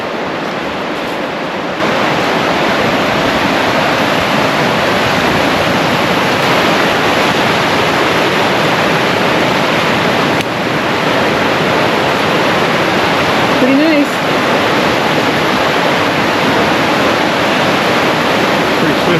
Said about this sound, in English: Pretty swift river is right.